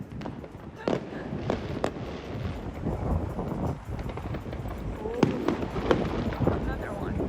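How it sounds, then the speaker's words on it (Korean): Fourth of July fireworks burst at the Washington Monument in Washington, DC, a series of sharp booms and crackles at irregular intervals over steady crowd murmur and wind, with people talking nearby. "불꽃놀이가 안 끝나요."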